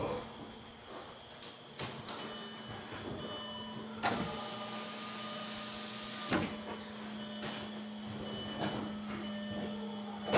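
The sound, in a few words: car door window being rolled up, Passat or Audi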